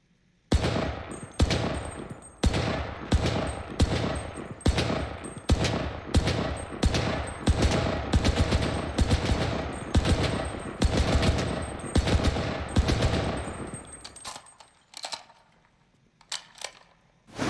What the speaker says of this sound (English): if you wanted more of a long-range machine gun, then this is definitely the pick you should go for